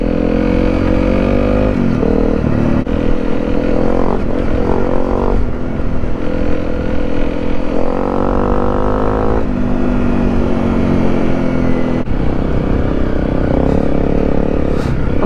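A motorcycle rides an off-road adventure trail at the ABR Festival 2022, its engine loud and close throughout, revving up and easing off repeatedly with rising and falling pitch over the rough ground.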